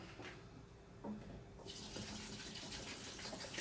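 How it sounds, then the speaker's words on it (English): Water runs from a tap into a container while making ginger and lime mead, a soft steady splashing flow heard up close that grows brighter partway through. "Get some water in here."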